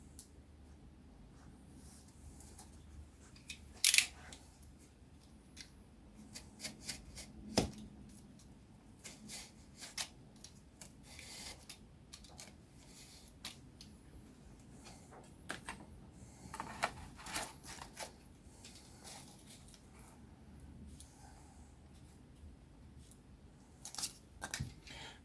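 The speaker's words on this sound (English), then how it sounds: "So we'll go ahead and we'll just cut some more out." Card wagon loads for a model railway being cut out, faint intermittent snips and small scraping taps spread over a quiet background, with occasional louder clicks.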